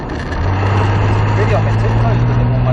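A car engine revs up under acceleration on a driving experience course, a loud steady drone that rises in pitch as the throttle opens.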